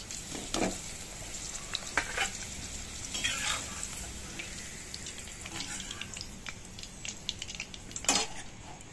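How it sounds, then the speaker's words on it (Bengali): Fried papaya pieces are lifted out of a kadai of hot oil, a soft continuous sizzle with scattered scrapes and clinks of a spatula against the pan, close and quiet, with no clear speech. "পেঁপেটাকেও তুলে নিচ্ছি।"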